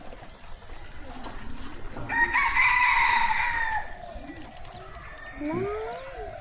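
A rooster crows loudly nearby for a couple of seconds, followed by softer clucks and chicken calls against faint outdoor background noise in Ubon Ratchathani, Thailand.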